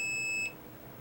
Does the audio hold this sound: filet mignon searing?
no